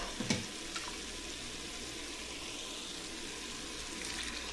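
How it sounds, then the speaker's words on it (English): A cup of broth poured into a pot of warming meat gives a faint, soft watery sizzle and trickle, with a couple of small clinks at the start, then a quiet steady hiss. "we're gonna add a cup of the broth"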